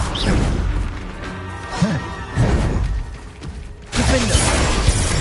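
Confringo explosive spell blasts from Hogwarts Legacy on PS5, loud crashing bursts recurring amid dense game combat noise, with breaks of quieter whooshing between impacts.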